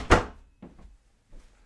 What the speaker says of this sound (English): Someone's after opening my door here.